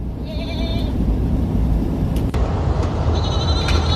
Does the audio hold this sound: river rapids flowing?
no